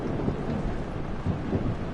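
Rain pours steadily and thunder rumbles low in the Rainy Hall level of the video game Amnesia: The Dark Descent, a dense continuous storm wash with no voices.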